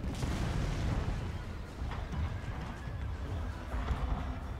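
Cavalry horses in the samurai strategy game Total War: Shogun 2 whinny and clop amid a dense battle din, with distant gunfire, rocket and artillery booms rumbling continuously under the charge.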